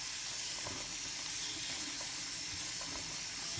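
Cabbage is rinsed under a running kitchen tap, giving a steady, soft hiss of flowing water with no voices.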